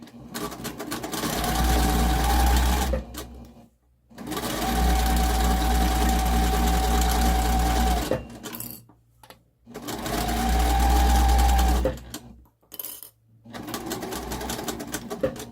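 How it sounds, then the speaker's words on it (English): A sewing machine stitching a quarter-inch seam around a zipper, running in three long close bursts of steady motor whir, with brief pauses and clicks between runs. "you're sewing that with a 1/4 inch seam allowance all the way around till you reach the lining point"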